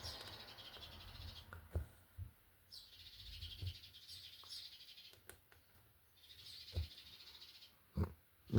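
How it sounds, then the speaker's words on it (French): House sparrows nesting just beside a window chirp in repeated bright bursts, moderately close, with soft knocks and rustles between calls and no one speaking. "Les petits moineaux qui nous accompagnent dans cette vidéo-là."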